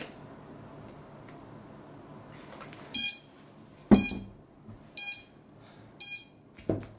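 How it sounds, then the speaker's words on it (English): A 5-inch Archangel DR1 Edition drone gives a series of short, sharp electronic beeps after losing its receiver connection, about one per second, each burst loud and close over a quiet background. "So it beeps when it loses connection to the receiver."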